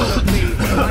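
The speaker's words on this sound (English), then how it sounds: "Why am I coughing so much?" A single harsh cough bursts out close to the microphone, short and rough.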